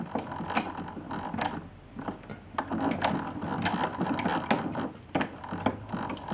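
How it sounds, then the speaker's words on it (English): A hand crank winds the spring of a Victrola 78 RPM phonograph, giving a steady run of close, quiet ratcheting clicks and creaks with no talking. "Let's see if you can hear it crank up."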